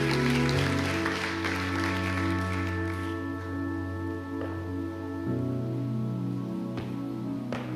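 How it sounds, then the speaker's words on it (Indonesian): A church congregation claps enthusiastically in a burst of applause over sustained keyboard chords that carry on after the clapping fades. "Berikan tepuk tangan yang meriah buat Tuhan"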